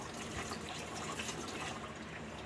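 Engine coolant from an 2003 Chevy truck's water pump area pours steadily down into a catch can barrel, a continuous close liquid splashing and trickling stream with no talk.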